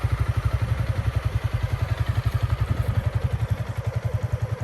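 A Honda CRF300L Rally motorcycle engine labouring at low revs on an uphill climb with the clutch slipping near stall, a steady rapid chugging thump that stays close and even, with no talk over it.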